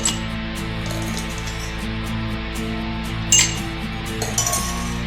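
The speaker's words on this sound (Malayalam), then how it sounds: "ഐസ് ക്യൂബ് ഇട്ട് കൊടുക്കാം." A few sharp clinks of ice cubes dropped into a glass over a steady background hum, with no talking.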